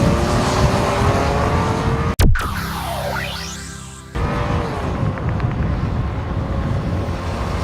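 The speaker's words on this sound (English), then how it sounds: "And we're curious if there's gonna be a different exhaust note." Ford F-150 pickup running on compressed natural gas, its engine and exhaust droning loudly up close under heavy wind buffeting, broken by a sharp thump and a brief muffled stretch before the roar resumes.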